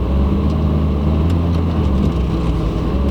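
A Ferrari engine runs loud and steady from inside the cabin, a deep droning rumble with faint rapid ticking from the exhaust.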